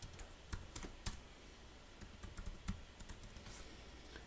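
Someone types a terminal command on a computer keyboard, producing soft, close keystrokes in an irregular run of taps over a faint background hiss.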